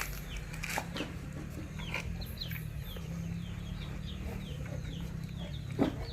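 Chickens cluck in short, soft repeated calls scattered over a low continuous background hum, fairly close and gentle, with no voices.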